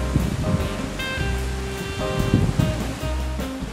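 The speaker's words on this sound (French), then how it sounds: "il y a pas mal de vent, là ça va perturber un peu le son de la vidéo" Strong wind in the Comminges countryside, Haute-Garonne, France, buffets the microphone in a steady rumbling roar, with gusty surges and some tonal whistling layered on top.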